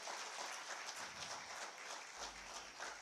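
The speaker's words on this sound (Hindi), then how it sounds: "तालियां एक बार जोरदार आप सबकी तरफ से होनी चाहिए।" A crowd claps steadily at a lamp-lighting ceremony for a government event with Chief Minister Hemant Soren, the applause fairly faint and distant, sustained without pause.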